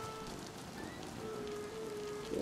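Steady rain falls in the survival video game DayZ, a constant close hiss of drops hitting surfaces with faint tonal hums mixed in and no talking.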